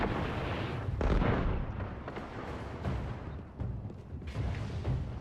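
Pistol gunfire in the video game Destiny during a Crucible Clash match, a dense run of loud booming shots and blasts filling the whole stretch with no pause.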